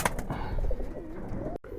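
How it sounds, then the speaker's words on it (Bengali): A Bejigola Giribaz pigeon gives one short, close, throaty coo with a rising and falling warble. "তো এইখানে আরেকটা আছে বেজিগলা কবুতর।"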